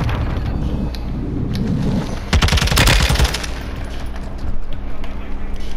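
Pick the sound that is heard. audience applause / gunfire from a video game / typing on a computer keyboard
gunfire from a video game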